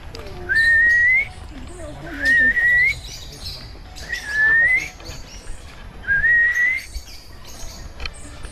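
A bird gives four clear rising whistles spaced about every two seconds, loud and close, with quieter background chatter and clatter between the calls.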